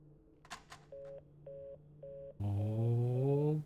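In a video game, a cell phone call plays a few short electronic tones followed by a steady ringing call tone, clear and close with no talk.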